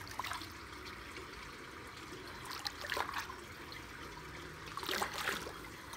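Cool water trickles and gurgles steadily through a large giant culvert being unclogged, a continuous low wash with a few brighter splashy surges, fairly quiet and without voices.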